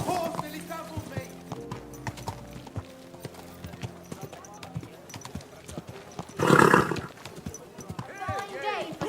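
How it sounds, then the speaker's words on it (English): A horse's hooves clip-clop in a medieval village in Kingdom Come Deliverance 2, a steady plodding rhythm close by, mixed with passing voices of townsfolk talking. "Your horse nearly trampled me!"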